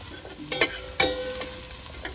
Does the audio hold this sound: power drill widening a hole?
no